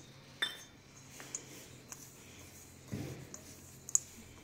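Spoon stirring nankatai cookie dough in a bowl after a spoonful of milk is added: soft, sparse clinks and scrapes against the bowl at low volume in a quiet kitchen.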